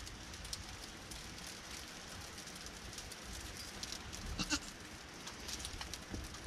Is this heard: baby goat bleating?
yes